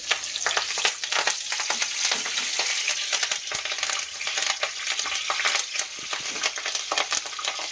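Mustard seeds, cumin and curry leaves frying in hot oil for a lady finger curry, a loud dense sizzle with quick crackles and popping seeds throughout, close and continuous with no voices.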